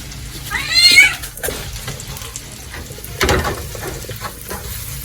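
Chili garlic butter prawns being stirred and tossed in a sizzling pan, with a steady fry hiss, scraping spoon strokes and a louder clatter midway, close and without talking.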